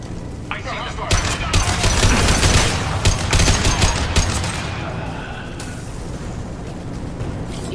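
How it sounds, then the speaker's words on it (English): Heavy gunfire from Blue Suns mercenaries and Vorcha in Mass Effect 2 crackles in dense, continuous bursts, loud and close, with blasts mixed through the barrage. "The Blue Suns and Vorcha shooting anything that moves"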